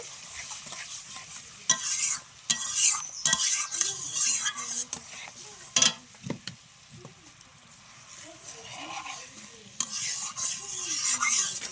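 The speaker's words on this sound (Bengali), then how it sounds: "অল্প করে জল দিয়ে মশলাটা ভালো করে মিশিয়ে নিলাম" Spices stirred with a little water in a pan while cooking a matar dal and raw banana curry, a spoon scraping and clinking against the metal in irregular bursts over a soft sizzle, with brief quiet gaps.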